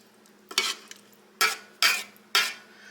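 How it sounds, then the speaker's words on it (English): Food stirred in a cooking pot, a utensil scraping through it in four distinct swishing strokes with short pauses between, close and alone. "Get all that stirred around."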